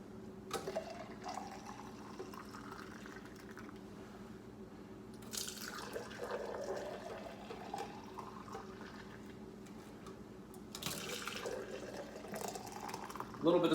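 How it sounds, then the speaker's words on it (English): A frothy egg drink mixture for a flip is poured back and forth between two vessels, giving splashing liquid streams in several bursts over a faint steady background hum. "now we're going to start pouring from one to the other in a way to froth this whole thing together"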